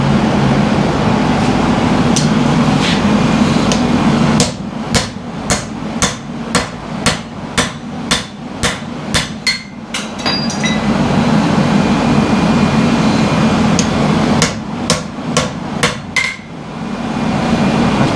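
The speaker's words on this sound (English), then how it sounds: "break out our hammer here real quick" Loud, close hammer blows on hot Damascus steel while forging a hunting knife, struck in rapid rhythmic bursts with short pauses between runs, over a steady background hum of forge or shop equipment.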